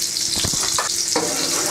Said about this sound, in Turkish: Hemen o arada ben üzerine tereyağıyla bir pul biber yakacağım.